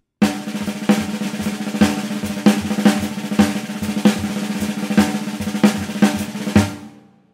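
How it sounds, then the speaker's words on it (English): A jazz drum kit plays a short solo with snare rolls filling the gaps between regular accented hits, a dense continuous buzz punctuated by evenly spaced louder strikes, close and loud before stopping abruptly. "So the step further is to play rolls in between those accents."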